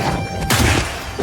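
A railgun fires in a video game, one sharp loud blast with a quick burst of noise that lingers briefly over a dense background of game sound.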